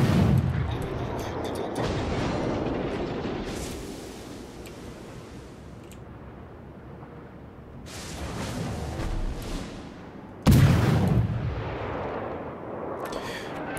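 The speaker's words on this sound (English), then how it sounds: "You're shooting at me, so I'm gonna shoot back." Naval guns fire at a destroyer in the video game World of Warships, with loud booming salvos over a rushing sea ambience, the heaviest blast near the end.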